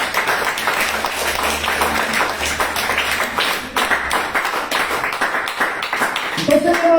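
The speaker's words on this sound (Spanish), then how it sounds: "Un aplauso al Señor." Congregation clapping in church during a Spanish-language sermon, an energetic, rhythmic patter of hands with sharp accents and a murmur of voices, giving way to a voice toward the end.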